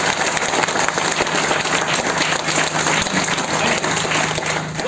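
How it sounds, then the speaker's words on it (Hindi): Audience applause for parents at a lecture hall event, a steady dense wash of clapping held at even loudness throughout, with no voices over it. "मैं चाहूंगा कि अपने पेरेंट्स के लिए एक बार जोरदार तालियां दें।"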